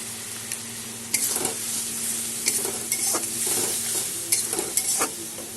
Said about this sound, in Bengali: মশলা আমার কষানো হয়ে গেছে, মশলা পুরো তৈরি হয়ে গেছে